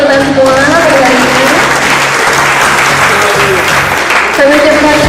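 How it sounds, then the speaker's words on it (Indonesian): An audience claps at a business plan competition workshop, with continuous loud applause running under voices and a tonal, music-like sound throughout. "Boleh beri tepuk tangan untuk kita semua hari ini."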